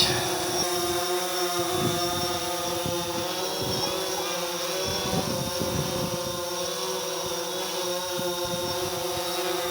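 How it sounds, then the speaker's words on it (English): A DJI Phantom 4 Pro drone flies outdoors, giving a loud, steady, high-pitched whining buzz from its propellers that holds throughout, with faint lower rumbles underneath. "move the drone down at the same time, kind of keep it, there we go, keep it centered"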